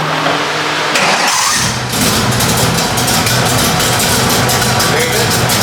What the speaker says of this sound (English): Let's see if we can start it from the outside.